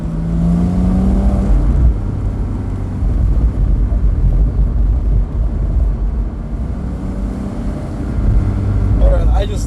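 A car's exhaust drones loudly and continuously while driving along canyon walls on Highway 1, with a deep rumbling roar and slight pitch shifts as the engine works.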